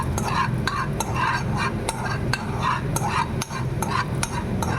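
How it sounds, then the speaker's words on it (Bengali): Chana dal frying in oil in a kadai over low heat, a steady close sizzle broken by sharp scraping and stirring clicks of a spoon against the pan, running continuously without speech. "তারপর এটা আমি ধিমে আঁচে একটু একটু ভেজে নেব।"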